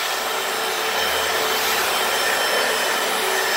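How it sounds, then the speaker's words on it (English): A Hoover Floormate floor cleaner scrubs a stained garage floor. Its brushes whir and rub in a continuous, even hiss close by, with no talking. "That's why you buy a Floormate machine."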